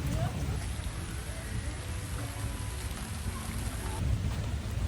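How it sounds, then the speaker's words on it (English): Steady rain falls and patters on a covered walkway on Sentosa Island, Singapore, a continuous hiss with low rumbling underneath. "It's the most rain I've had all week."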